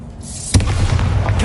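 The Bombarda spell in Hogwarts Legacy sets off a sudden booming explosion, a single heavy blast followed by a rumbling, crackling decay.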